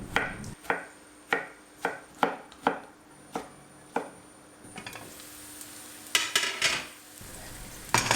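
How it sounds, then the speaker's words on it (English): Knife chopping peeled tomatoes finely on a cutting board, a run of about nine sharp, evenly spaced cuts, close and clear, then a soft scraping shuffle and a few quicker chops at the end. "I'm gonna peel my tomatoes and finely chop."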